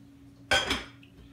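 Beef is stirred into sauce in a small crock pot, heard as a single quick clatter of a utensil against the pot, two close knocks within half a second in an otherwise quiet room.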